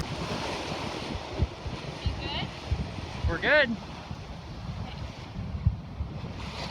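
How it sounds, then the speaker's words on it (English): Open Pacific Ocean waves and gusting wind rush steadily around a sailboat under sail in trade winds, a constant broadband wash with occasional louder swells, while people talk briefly nearby. "Gonna get some footage of our glorious waves"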